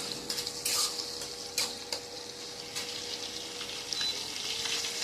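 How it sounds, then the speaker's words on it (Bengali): Shrimp frying lightly in a pan for mixed fried rice, a soft continuous crackle with occasional clinks of a utensil against the pan, moderately quiet and without speech. "চিংড়ি মাছগুলো কিন্তু বেশি ভাজা হবে না, একদম হালকা করে ভাজা হবে"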